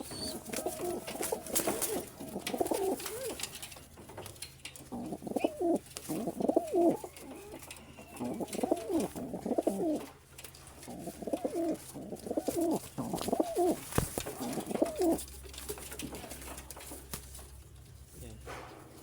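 Pigeons coo in repeated soft, throaty bursts while being fed vitamins and feed, close by and fairly quiet, with a few sharp clatters and brief background noises between the calls.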